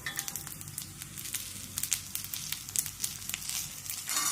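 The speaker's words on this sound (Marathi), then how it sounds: "तर चटचट आवाज आला की ह्याच्यात 4 बॅडगी मिरच्या घालायच्या." Byadgi chillies sizzle and crackle in hot oil, a dense, close spatter of sharp pops over a steady frying hiss, loud and alone without talk.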